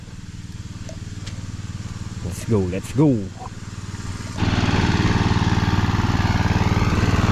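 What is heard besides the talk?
small engine machine running before being shut off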